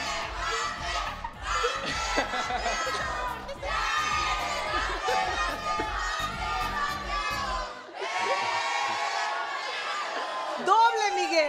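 A studio audience of girls and a guy on a Spanish-language dating show yells and cheers in loud repeated bursts, with raised voices throughout and a brief pause near the end.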